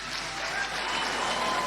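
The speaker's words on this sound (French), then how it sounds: "Le président élu qui fait son entrée sous les applaudissements de l'assistance" An assembly of parliamentarians and state dignitaries applauds the president-elect Paul Biya entering his inauguration in Cameroon, a dense, continuous wash of crowd clapping, steady and full throughout.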